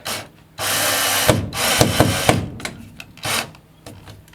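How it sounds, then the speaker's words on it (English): A drill driver whirs in short bursts, driving a screw into wood while installing a thermostat, with stuttering pulses and brief pauses between them, close by. "you can use a drill driver"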